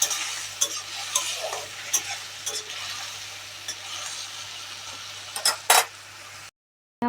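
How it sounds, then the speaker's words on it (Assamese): Masala frying in oil in a pan for an Assamese fish curry: a close, continuous sizzle broken by repeated scraping and clinking of a spatula against the metal. The sound stops abruptly near the end. "এতিয়া মই ইয়াত তেল দিলোঁ এতিয়া মই মছলাখিনি ভাজিম"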